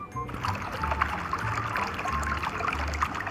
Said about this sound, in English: Yes, water.